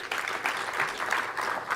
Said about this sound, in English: Ladies and gentlemen, let's clap for her.